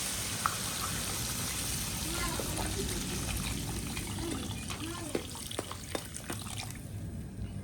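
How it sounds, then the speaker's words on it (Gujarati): Water pours and splashes steadily into a pan of crab curry, with a continuous hiss and scattered drips and clicks toward the end. "હવે આપણે રેડી દેવાનું છે પાણી શાક સેડાવવા માટે જરૂરિયાત પ્રમાણે"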